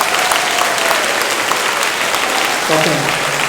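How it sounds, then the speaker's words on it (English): Audience applause at a school dedication ceremony, loud steady clapping from a crowd filling the room throughout, with a faint voice underneath. "Give them a round of applause."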